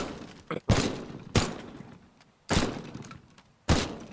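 PC case being smashed apart in the video game Teardown: four loud, sharp crashing impacts spaced about a second apart, each with a short breaking rattle that fades, plus a smaller knock before the first.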